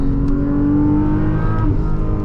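A 2022 Porsche Boxster GTS 4.0 out on a track, its engine droning loud and steady with a sustained tonal whine and a slight pitch shift near the end, heard alone without any talk.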